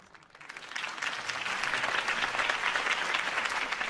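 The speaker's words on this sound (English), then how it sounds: "If only Mr. Wayne, my campaign's largest backer, could have heard that applause" Applause from a crowd after a campaign speech in the Telltale Batman video game swells quickly from quiet into sustained, dense clapping that holds strong to the end, with no voices over it.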